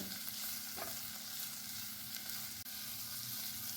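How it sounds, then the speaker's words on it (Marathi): Chopped onion, garlic and ginger sizzle in hot oil in a pan with a continuous close frying hiss, and a spoon stirs now and then. "या तेलामध्ये घालूया कांदा त्यानंतर घालूया लसूण आलं व्यवस्थित मिक्स करून घेऊया"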